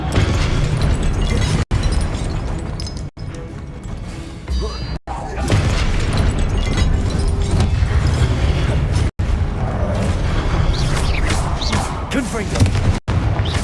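A Confringo explosion spell cast in the Hogwarts Legacy video game, a loud sustained blast with crashing debris and rumble, dense and continuous, with a voice calling out over it.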